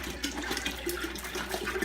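A gallon of bottled spring water pours into a homebrew pot, a steady close gushing splash lasting under two seconds.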